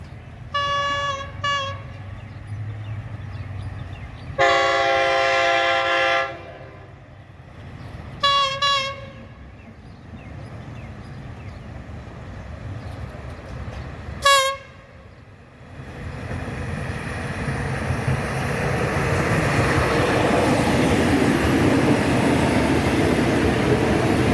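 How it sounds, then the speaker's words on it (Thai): A passenger train pulls into Uthumphon Phisai railway station in Thailand, sounding several loud horn blasts before a rising, rumbling roar of wheels and carriages builds steadily as it arrives close by. "รถ มาจากทางนี้ นะครับ มา แล้ว รถ"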